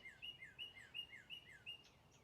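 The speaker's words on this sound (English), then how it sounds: "The birds are singing." Small birds singing outdoors on a hot, warm day: faint, bright chirps repeating in an even rhythm, about three per second, over a quiet background.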